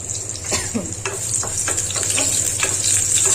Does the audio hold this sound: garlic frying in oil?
yes